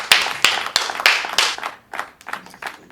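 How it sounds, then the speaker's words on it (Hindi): A studio audience at a poetry recital claps to welcome a poet, with sharp, fairly rhythmic bursts of hand claps that are strong at first and then thin out and soften. "जोरदार तालियों से रोहित को आमंत्रित करिए"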